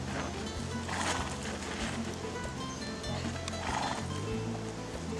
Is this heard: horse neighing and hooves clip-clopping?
yes